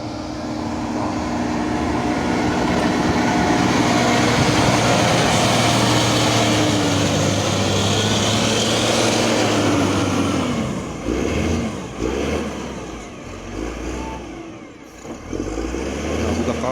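A tractor drives along a snow-covered road, its engine droning loud and close with a steady low hum that swells and then fades as it moves off, leaving a rumbling tail.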